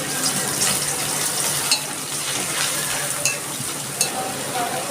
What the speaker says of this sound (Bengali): লাল লাল করে ভেজে নিচ্ছি পেঁয়াজটাকে